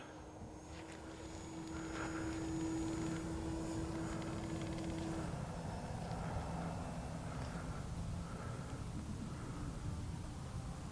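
A Durafly FG-1 Lucky Gallon RC model plane flies overhead at a field, its steady propeller drone rising and holding in pitch before dropping slightly midway, moderately distant and continuous.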